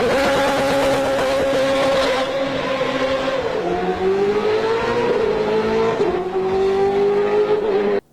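BMW M3 GTR race car with its P60B40 V8, a loud, close, high-pitched engine howl with rising and falling revs through gear changes, heard without talk.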